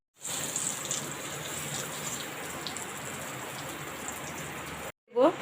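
Cardamom, bay leaf and licorice sticks sizzle in hot oil over a low gas flame, making a steady hiss for about five seconds before it abruptly stops and a brief bump follows.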